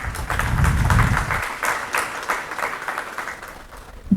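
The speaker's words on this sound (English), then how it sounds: "Clap." Audience clapping at a student interaction session, a scattered burst of hand claps that starts over a low murmur and thins out toward the end, moderately loud in a hall.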